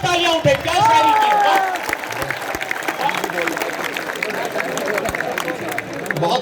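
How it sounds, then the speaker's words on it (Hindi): An audience at a college-fest kavi sammelan poetry recital breaks into applause: a dense patter of clapping and crowd murmur that swells early, then continues at a steady, slightly softer level alongside a voice. "एक बार जबरदस्त तालियां उठे"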